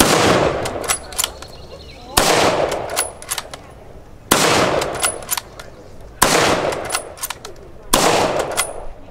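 A WWII-era rifle fires five rounds outdoors at a small arms demonstration, each a loud sharp crack followed by a rolling echo, spaced about two seconds apart.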